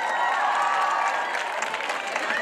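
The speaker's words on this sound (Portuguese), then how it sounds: "O vosso aplauso para os zumbásticos!" A crowd at an outdoor Zumba color fest applauds and cheers, with a sustained wash of clapping and whoops and a few shrill voices standing out above it.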